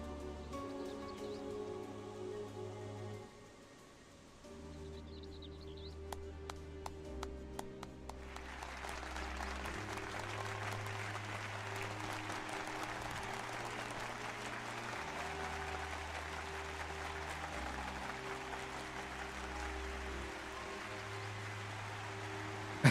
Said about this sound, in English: I love the synchronized jump claps from the Mamulja.